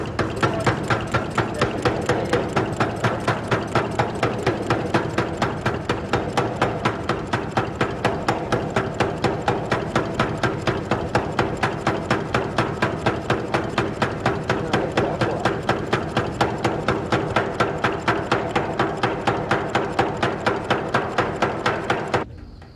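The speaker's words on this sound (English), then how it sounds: "Old skills are being relearned to make new parts for the locomotives. Today, they're forging crown rivets." Crown rivets for steam locomotive parts forged in a railway blacksmith shop, a rapid, steady, mechanical hammering that repeats evenly and loudly for over twenty seconds before stopping.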